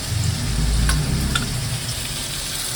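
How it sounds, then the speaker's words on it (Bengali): Pointed gourd slices frying in a pan, a steady close sizzle with a low rumble early on and a couple of faint clicks, moderately loud and without voices. "পটলটা ভাজি করে নিচ্ছি।"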